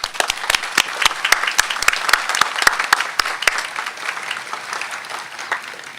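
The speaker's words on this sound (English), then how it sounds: "So let's give them a round of applause." A law school commencement audience at Pace breaks into applause, sharp nearby claps standing out over a steady crowd wash that softens over six seconds.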